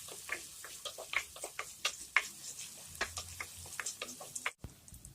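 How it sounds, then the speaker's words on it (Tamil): Two medium onions, finely chopped, sautéing in a pan for a spicy mushroom masala, a faint crackling sizzle broken by irregular ticks and scrapes from stirring. "இப்போ இந்த வெங்காயம் நல்லா வதங்கிடுச்சு."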